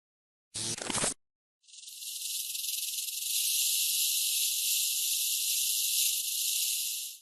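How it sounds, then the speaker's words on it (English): A rattlesnake shakes its tail rattle in warning, a sustained dry buzzing hiss that holds steady for several seconds after a brief louder burst of sound near the start. "a rattlesnake performs tail-end percussion"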